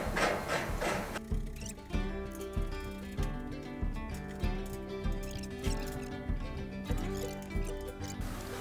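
A bolt is threaded onto a hard rubber wheel while a Camp Chef FTG600 flat top grill is assembled, giving a regular series of close, ratchet-like clicks with a brief rustle before them.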